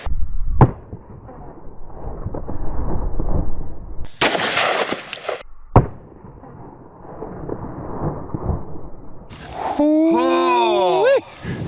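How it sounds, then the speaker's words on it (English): Two loud .44 Magnum revolver shots, 240-grain semi-soft point rounds fired from a Taurus Tracker, crack out as sharp broadband bursts a few seconds apart, with people talking before and between them. "Next is 2 rounds of 44 Magnum, 240 grains, semi-soft point out of the Taurus Tracker"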